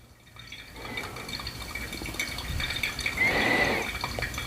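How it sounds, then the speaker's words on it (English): Water poured from a kettle over ground coffee in a pour-over brewer, a thin steady trickle that rises to a louder splashing stream near the end. "Next pour is going to be 235 grams."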